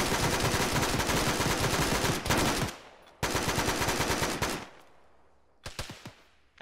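Sustained machine gun fire in a military shooter game, two long loud close-range bursts separated by a brief pause, then a few short sharp shots near the end.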